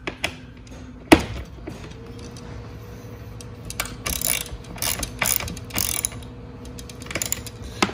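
A ratchet clicks in quick bursts while bolts are tightened on a Venom Motorsports 125cc mini jeep, with a sharp metallic knock early on and several rapid ratcheting runs close by.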